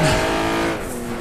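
A Honda NSX's engine roars at full throttle on a kart circuit, a loud sustained tone that holds steady and then eases slightly in pitch, with no talking.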